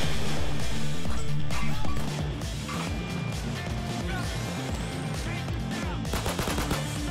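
Rapid automatic gunfire in the game Payday 2, dense bursts of loud shots that ease slightly after the first two seconds and then continue steadily, with crackling impacts layered in.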